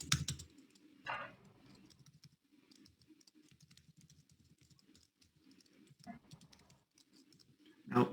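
Keys clack on a computer keyboard as a sudo command is typed, bursts of quick irregular taps at close range with short pauses and a few louder strokes, no voices.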